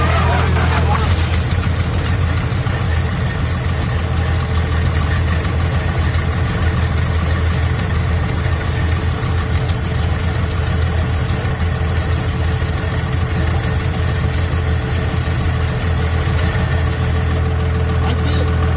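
A Dodge W300 truck that sat unused for years idles with a steady, loud, low rumble that holds unbroken for the whole stretch, while people talk nearby over the engine.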